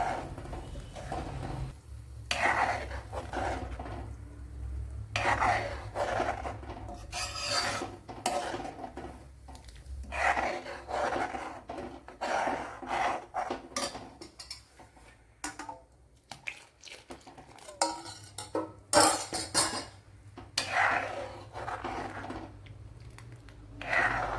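A spoon stirring a milk mixture in a pot for pink beetroot payasam, with scraping, rubbing and light metallic knocks against the pot, fairly quiet, irregular strokes.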